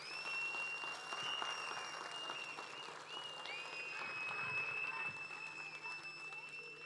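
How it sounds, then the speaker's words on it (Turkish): Applause from an audience at the opening ceremony of the Ayla Ökmen Happy Children playhouse, with steady clapping through the whole stretch, a crowd murmur beneath it and a few high whistles or tones above it. "Nilüfer Hanım alkışı hak etmiş arkadaşlar"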